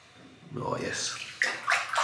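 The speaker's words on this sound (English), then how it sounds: "I'm going to pour this water all over my hair" Water is poured over a person's head of hair before a head shave, splashing and trickling in uneven close bursts, fairly quiet, with a person speaking over it.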